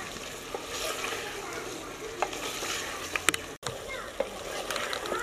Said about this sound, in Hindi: मटन को भूनते हुए मुझे 4-5 मिनट हो गए हैं, 4-5 मिनट इसे मज़ीद भून लूँगा।